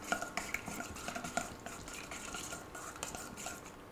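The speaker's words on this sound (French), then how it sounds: "On mélange." A utensil stirs a lamb marinade of lemon zest and olive oil in a bowl, giving soft, close scraping and light clinks that come in a quick, uneven rhythm with no talking.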